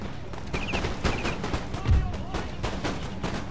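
Cannon fire from a battle in Empire Total War, a steady rumble of repeated booming shots with one heavier low blast midway, mixed with distant gunfire crackle and faint battlefield noise.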